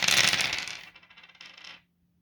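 Several dice are rolled onto a table during a Broadside: Empires of Steel tabletop wargame, making a dense burst of hard clattering that thins into a few scattered rattles before stopping abruptly.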